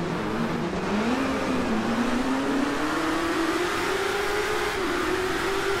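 Motorcycle engine from a racing game, DRIVECLUB, holding a steady loud drone whose pitch climbs gradually as the bike accelerates, with a brief dip near the end; no voices.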